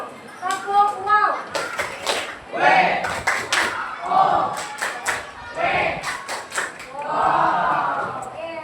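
A school class doing a clapping chant: children's voices chant together, broken by bursts of sharp, quick claps in a repeating rhythm.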